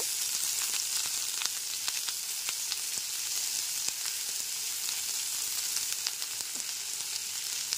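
Chopped onion frying over a low flame gives a steady close hiss, dotted with small crackles and pops, with no talk.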